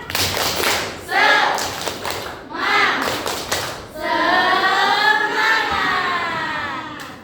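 Children in a classroom doing a spirit clapping chant, with bursts of group clapping alternating with sung or chanted voices in a lively, rhythmic pattern, loud and close.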